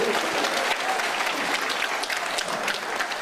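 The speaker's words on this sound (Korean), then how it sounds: "박수 한번 칩시다." A crowd at a lecture in Busan by a lawyer applauds, dense continuous clapping filling the hall, steady and moderately loud for a few seconds without a break.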